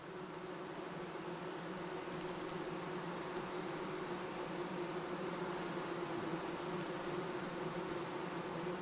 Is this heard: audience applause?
no